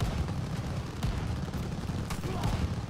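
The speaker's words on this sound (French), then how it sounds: "Faut neutraliser cette mitrailleuse." Machine gun fire in the World War II shooter Call of Duty: Vanguard, a dense, continuous rattle of rapid shots over a thick low rumble of battle, steady and unbroken for the whole stretch.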